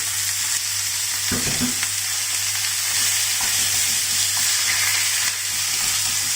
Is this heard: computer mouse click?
no